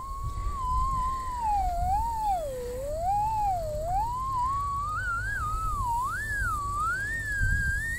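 A single electronic tone from a cable locator tracing an electric line wavers continuously, sliding up and down in pitch and climbing higher toward the end, steady and fairly loud over a low background rumble.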